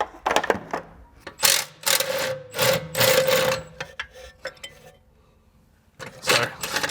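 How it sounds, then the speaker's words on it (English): An impact gun drives out bolts on the rear control arm of a BMW F30, in several loud rattling bursts of about a second each with short gaps, ending in a pause and then one more burst. "now I'm just gonna cheat by using an impact gun to drive out both those bolts"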